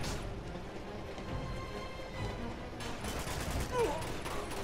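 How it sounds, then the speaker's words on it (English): Bursts of gunfire crackle in the video game Uncharted 2, rapid shots coming from an unseen distance with a sharper burst near the end, set against steady background noise. "someone's shooting from somewhere"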